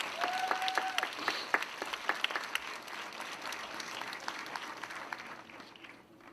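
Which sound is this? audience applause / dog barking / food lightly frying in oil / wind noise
audience applause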